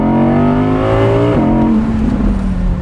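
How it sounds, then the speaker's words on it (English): An Audi R8 engine revs hard in first gear toward the red line, a loud, close, rising scream that drops sharply around the shift and then keeps howling, with no talking. "So here we are, first gear, first go. Red line."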